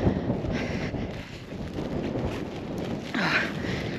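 Strong wind on a long climb up Fewsdale during the Lakeland 50 ultramarathon, a gusty roar buffeting the microphone in a steady rush that swells slightly near the end.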